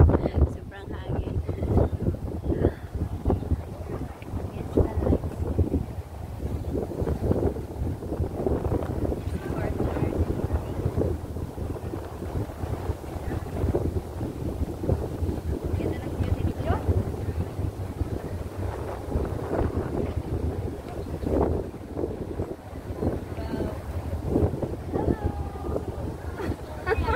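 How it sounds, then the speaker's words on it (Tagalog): Gusty seaside wind buffets the microphone throughout, a continuous low rumble with fluctuating intensity and faint voices mixed underneath. "Sobrang hangin."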